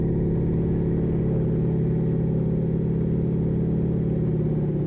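Light piston aircraft engine holding steady climb power at 28 inches and 2,000 RPM after a go-around, a loud, continuous low droning hum heard from inside the cabin with no talking.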